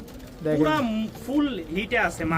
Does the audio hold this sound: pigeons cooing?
yes